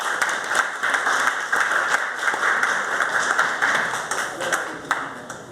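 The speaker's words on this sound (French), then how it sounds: "je vous demande de les applaudir" Audience applause at an outdoor French-language cultural awards event, a steady wash of many hands clapping throughout, moderately loud with a few sharper claps standing out.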